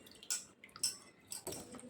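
Bitter gourds are being washed in salt water, and water drips and splashes from them in about four short, quiet bursts. Each burst is a soft patter over faint background hiss, spread irregularly across two seconds.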